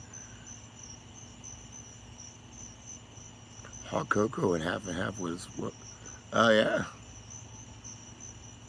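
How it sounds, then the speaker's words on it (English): Crickets chirp steadily at night outdoors, a continuous high-pitched trill running through the whole stretch while people talk briefly in the middle. "The crickets."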